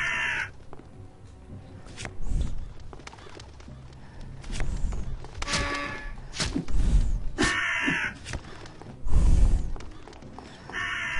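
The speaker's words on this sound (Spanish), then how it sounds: "Aquí están los cuervos." Crows caw repeatedly in the Unepic video game, harsh calls rising several times over a busy mix of game sounds and effects, with no talk.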